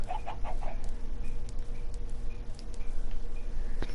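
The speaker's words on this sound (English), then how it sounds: "So yeah, all my little chickens." Chickens cluck in a coop in Minecraft, a few soft clucks near the start over a steady hum, then sparse faint clicks and chirps.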